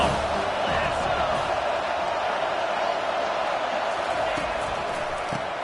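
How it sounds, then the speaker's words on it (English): A stadium crowd roars steadily at a football game as the defense lines up on third down, a dense sustained wall of cheering that stays loud throughout. "Decibels rising as the crowd gets behind this defense on third down."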